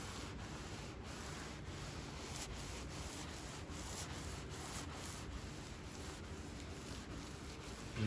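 Clay pad wiped back and forth over a work truck's clear coat during decontamination, a faint, continuous gritty rubbing with soft rhythmic strokes.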